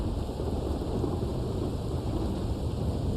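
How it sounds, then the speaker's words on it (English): Steady, dense rain with a low rumble of thunder in the Red Dead Online game, a continuous broadband wash without breaks or speech. "And look at how the rain just bounces off the roof like that."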